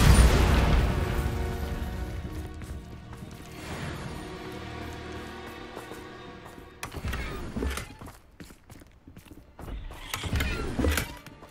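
A Confringo fire-blast spell goes off in the game Hogwarts Legacy: a loud, booming explosion at the start that rumbles away, followed later by more thuds and crashing impacts.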